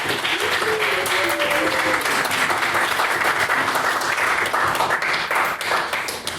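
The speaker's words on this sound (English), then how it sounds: "we get a round of applause for all of us who did the IVs over the last few years" A round of applause from an audience honouring past Trinity Women's IV rowers, steady dense clapping filling the whole stretch at an even level, with a few voices calling out faintly beneath it.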